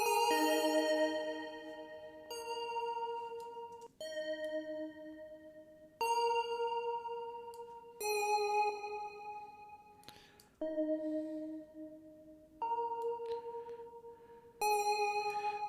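Retro synthesizer sound in a song mix, playing bright sustained tonal notes in a steady pattern of phrases that change roughly every two seconds, loud and clear with no talking.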